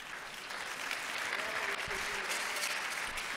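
Church congregation applauding together, a steady dense wash of clapping from many hands that fills the room for a few seconds without a break.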